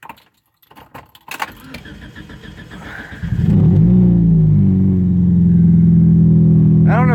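A turbo Hyundai Tiburon's starter cranks briefly, then the engine catches and settles into a steady, loud idle. Keys jangle and clatter first, and there is a short high whine near the end.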